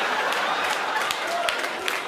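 An audience at a comedy show claps in a dense, steady burst of applause that carries through the whole stretch, with scattered sharper individual claps standing out near the end.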